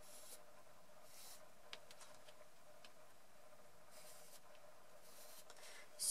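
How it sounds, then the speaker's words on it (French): Faint pencil strokes scratch across a sheet of paper, tracing a twelve-sided dodecagon around a template in a quiet room, with short bursts of rubbing separated by pauses. "Je vais dessiner le dodécagone"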